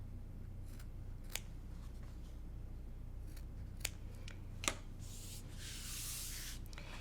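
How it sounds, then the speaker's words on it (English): Scissors snip fabric corners at a sewing table with a few sharp, isolated clicks spread over several seconds. The cuts are quiet and close against a low background hum, and no one speaks. "I like to clip my corners to reduce bulk."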